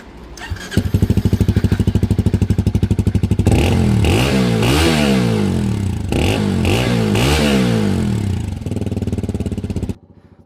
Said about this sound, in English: let's listen to the engine, shall we?